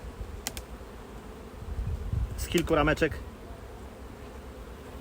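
Honey bees buzzing in a low steady hum as they are shaken off brood frames, a beekeeper talking and a few clicks and knocks of frames over the drone.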